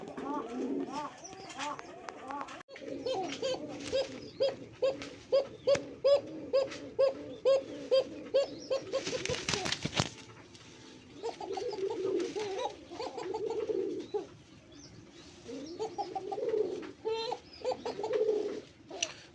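A pair of jet-black pigeons for sale coo close by, the male calling in a run of rhythmic pulsed coos and the female answering later, with a burst of noise midway and intermittent talking between calls.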